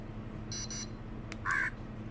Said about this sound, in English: So that's what happens when the alarm goes off.